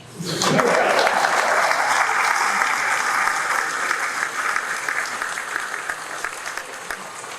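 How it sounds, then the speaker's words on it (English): Sustained, dense applause from a large crowd at a recruit class graduation ceremony, swelling quickly after a brief quiet start and holding loud and steady before easing slightly toward the end. "Applause."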